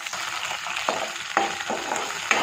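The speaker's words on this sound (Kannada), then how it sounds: "ಒಂದು ನಿಮಿಷ ಫ್ರೈ ಮಾಡ್ಕೊಳ್ತೀನಿ" Green peas frying in a hot tempering in a pan, a steady crackling sizzle broken by several sharp scraping stirs of a spatula, close and without talking.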